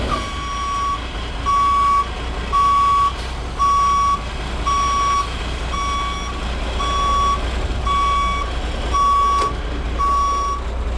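A CDL straight truck backs up with its reversing alarm sounding a steady series of about ten evenly spaced beeps, clear and unaccompanied by talk.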